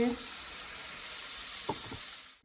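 A rohu fish and bottle gourd curry bubbles and sizzles steadily in a pan, with a brief stirring scrape near the end and no talking.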